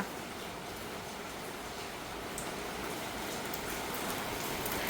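Steady rain falls continuously, a dense hiss of drops on surfaces with no voices.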